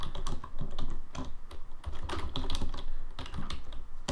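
Rapid typing on a computer keyboard while entering code, with dense irregular key clicks running steadily throughout, close and fairly loud, with no talking.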